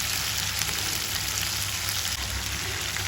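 Nigella seeds and spices fry in hot oil in a pan, giving a steady, dense sizzle that holds at even loudness throughout, close up and with no voices.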